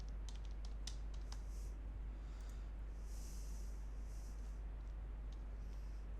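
A passport number is typed on a computer keyboard in faint, scattered clicks and taps over a steady low hum.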